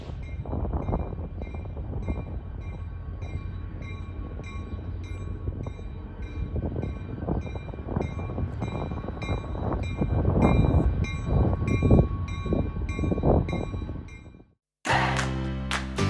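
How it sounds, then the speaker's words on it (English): Train ride aboard a historic train at the Nevada State Railroad Museum, with a steady rumbling clatter of the cars rolling along the rails, loud and continuous for most of the clip before a brief cut near the end. "ride the train"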